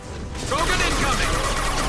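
Gunfire and combat noise from the video game Mass Effect 2 during a fight with a Krogan, forming a loud, continuous barrage of crackling shots and impacts.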